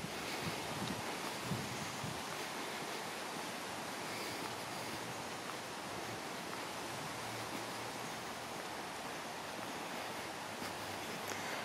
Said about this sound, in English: These trees are blowing rather brisky.